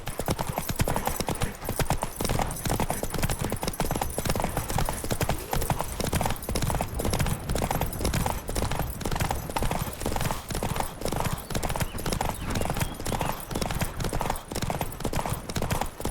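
Continuous galloping hoofbeats of a horse in The Witcher 3, a loud, fast clip-clop rhythm running steadily throughout, with a faint whinny and no talk.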